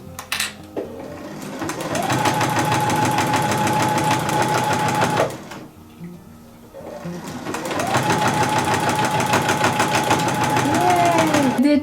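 A sewing machine stitches around a dress neckline in two long, loud runs of rapid rhythmic whirring, separated by a short pause with quieter handling sounds.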